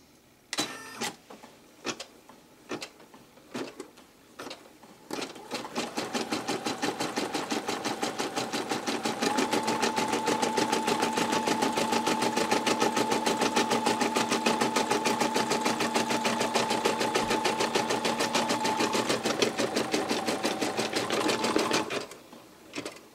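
An embroidery machine stitches the outline of an appliqué number 4 on a caterpillar shirt in a repositionable hoop. A few separate clicks come first, then a steady, close, fast mechanical stitching chatter runs without a break for about fifteen seconds before it stops.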